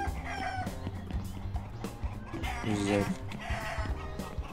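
Chickens clucking in the video game Bad Guys at School, short clucks and crowing-like calls mixed with game music and sound effects while people talk over them.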